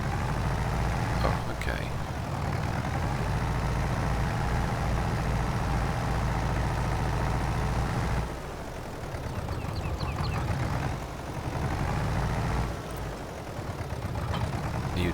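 Small tractor engine in Farming Simulator 22 running steadily with a low idling rumble, dipping slightly toward the end, while a voice speaks briefly over it.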